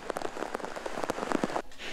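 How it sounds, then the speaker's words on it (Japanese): Heavy downpour of torrential rain during a concentrated cloudburst in Shizuoka City, a dense, steady hiss of drops pattering on surfaces, close and continuous with no voices. "人々の行く手を阻む大雨、100メートル先が見えにくくなるほどの危うい状況でした"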